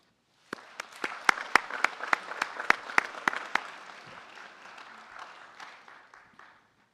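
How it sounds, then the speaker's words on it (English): A burst of applause at a military college graduation ceremony opens with sharp, distinct claps that soon blend into a steady wash of crowd clapping, gradually tapering off. "Join me in a round of applause for our American Public University graduates"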